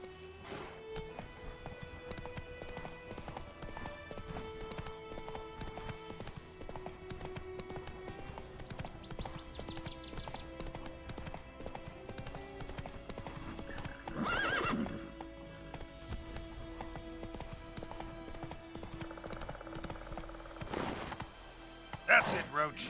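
Clip-clop of the horse Roach's hooves in The Witcher 3, a steady trotting rhythm over layered game music and ambience, with a whinny rising out near the end and a loud neigh just before it closes.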